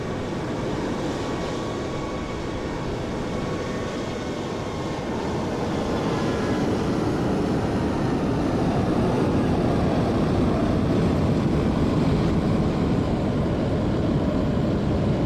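A British Airways airliner at London Heathrow in Microsoft Flight Simulator 2020, a steady broadband jet roar that swells gradually louder over fifteen seconds, heard alone with no talk.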